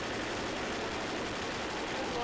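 Sustained, dense gunfire in the video game Left 4 Dead rattles continuously, with a voice talking underneath the shooting.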